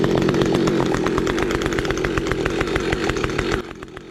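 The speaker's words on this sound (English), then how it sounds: "I got a Husqvarna 572 with a 28-inch bar" A Husqvarna 572 chainsaw with a 28-inch bar and modified exhaust cutting a large fallen tree roars steadily at full throttle, loud and close, then drops slightly in level near the end.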